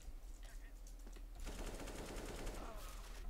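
Gunfire from CS:GO, a low rumble that erupts into a sustained, dense automatic burst with the rattle continuing to the end, a voice faintly present beneath it.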